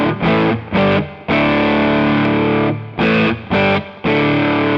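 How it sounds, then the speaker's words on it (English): A Gibson Warren Haynes Les Paul with P90 pickups plays loud distorted chords, sustained ringing passages broken by short choppy stabs and brief gaps, with no voice. "I was really blown away by the tones of this guitar."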